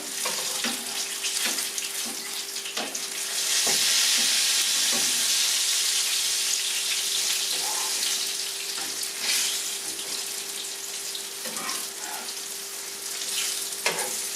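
Pizzelle batter cooking in a hot iron after being flipped gives a steady, loud frying sizzle that swells in the middle, with faint clicks and a thin steady tone running through it; no voices.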